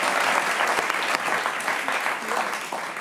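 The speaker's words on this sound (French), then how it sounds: "Applaudissements pour Bettina," A TV talk-show studio audience bursts into loud, dense applause for a guest who has won an Olympic gold medal in equestrian sport. The clapping stays full and continuous and fades slightly at the end.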